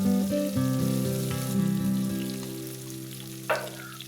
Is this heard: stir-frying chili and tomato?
yes